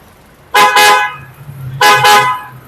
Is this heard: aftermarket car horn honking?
yes